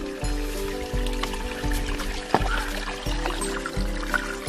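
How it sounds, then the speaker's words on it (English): Mountain snowmelt stream on Mount San Jacinto, steady rushing and gurgling water close by with a continuous trickling flow and small splashes, running alone without talk. "This is the last stream for 20 miles."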